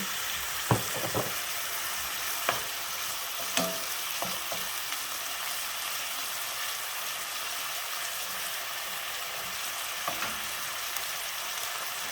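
Sweet onions stir-frying with oyster sauce in a Thai home kitchen, a steady crackling sizzle close by, broken by occasional sharp clacks of the spatula against the pan.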